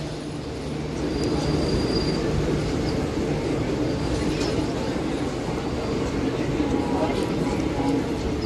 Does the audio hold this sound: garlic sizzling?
no